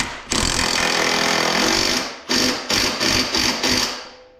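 A power tool whirs as it tightens the springs on a Honda 520 Rubicon ATV during a 2-inch bracket lift install. One long continuous run is followed by four short bursts in quick succession, all loud and close, with no talk.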